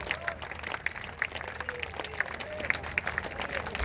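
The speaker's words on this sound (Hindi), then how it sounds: "सो मैं चाहूंगा सभी हाथ ऊपर उठें और जोरदार तालियां बजाएं।" Quiet, steady crowd applause at an RCM Roopantara Yatra 2025 event in Bhilwara, a dense patter of many hands with voices talking faintly over it.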